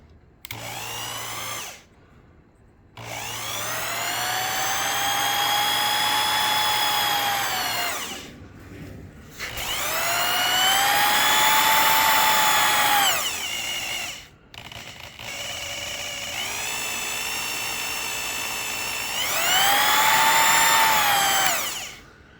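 Small Sherline lathe with an adjustable-speed motor running in steady stretches of several seconds, its whine rising and falling in pitch as the speed changes, with short pauses between runs and no talk.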